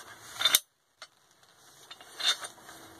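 S-type jaw pipe wrench, a Weehaw made in the Czech Republic, having its jaw adjusted: a brief close ratcheting, clicking metal burst, a pause, then softer mechanical clicks and scraping.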